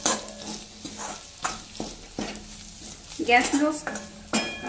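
Spices being stirred into masala frying in oil in a pan for a rustic Maharashtrian katachi amti, with spoon scrapes and clatters against the pan over a low sizzle and a brief burst of activity near the end.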